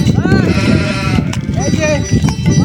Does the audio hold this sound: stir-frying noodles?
no